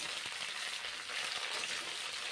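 Cauliflower florets fry in hot oil with a steady, dense sizzle that holds even throughout, close and fairly loud, ending in a short sharp crackle; no voices.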